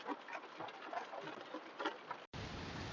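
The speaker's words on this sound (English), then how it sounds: "It is still raining." Rain falls steadily over a cemetery, a dense soft patter throughout with a brief cut partway, then continuing as an even wash of drops.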